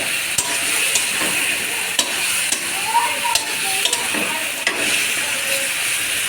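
Potatoes and fish with mixed spices fry in a hot pan, a constant close sizzle and hiss broken by occasional scrapes and knocks as the food is stirred and spread.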